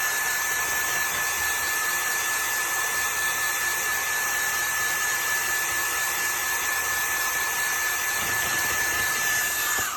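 A hair dryer blows continuously on a painting to dry it, a steady loud whooshing roar with a constant high whine that holds for the full ten seconds.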